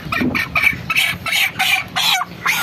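A flock of farm broiler chickens clucks in repeated short bursts, close by and fairly loud, with no talking over them.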